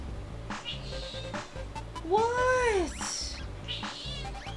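A cat meows several times, close and clear, with a drawn-out rising and falling wail in the middle, over a background of video game sounds, and a voice speaks briefly.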